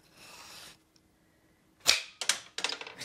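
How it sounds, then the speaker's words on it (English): An Ostheimer wooden toy cannon fires a cannonball: after a quiet pause, a sharp snap is followed by a few quick wooden clatters and knocks, close and crisp, with no talking. "We need to fire a cannonball."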